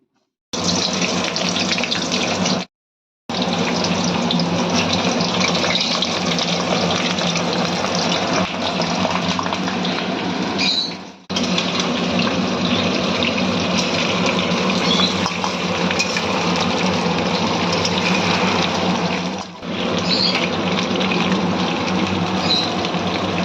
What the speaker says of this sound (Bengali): এবার টুকরো টুকরো করে কেটে রাখা আলুগুলো আমরা ভেজে নেব।